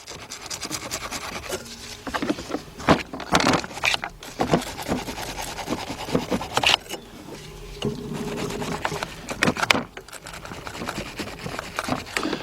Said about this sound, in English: we're gonna do a wire brush and clean that one up as well